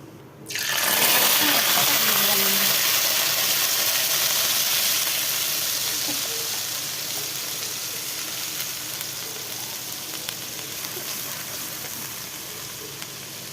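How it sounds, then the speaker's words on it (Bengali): Whole spices sizzle as they hit hot oil in a kadai for a green banana fish curry, a loud steady frying hiss that starts abruptly and gradually settles, with no talk over it. "কড়াইতে আমি তেল দিয়ে দিলাম, তো ফোড়ন দিয়ে দিলাম"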